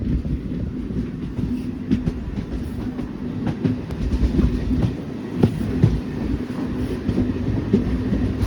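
Inside a passenger train running from Bengaluru toward Mysuru Junction, a steady low rumble of wheels on rail fills the sound, with faint rhythmic clacks throughout and no voices.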